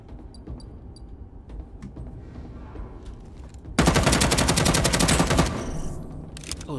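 Rapid automatic gunfire from a gun in the space-themed video game Starsiege Deadzone, a dense burst of shots starting a few seconds in and sustained loudly for about two seconds, after quieter scattered game sounds and distant pops.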